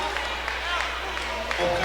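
Basketball crowd in a college gym reacting to a foul call, a brief burst of scattered clapping and murmuring, moderately distant.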